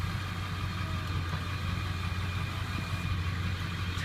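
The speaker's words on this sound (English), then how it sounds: "Tiny bit of blow by, which is very normal in a old diesel truck, but not much." Old Ford diesel truck idling with a little blow-by, a steady low rumble with a constant mid-pitched hum, close and even throughout, no voices.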